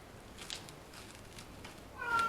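A cat gives a short meow near the end over a quiet background, with faint soft noises just before it.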